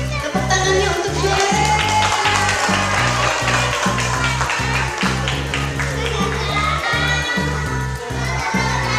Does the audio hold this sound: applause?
yes